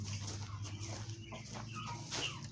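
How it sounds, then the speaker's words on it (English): A chicken clucks inside a farm barn, soft repeated clucks at moderate distance over a low steady background hum, with no one talking. "Chicken."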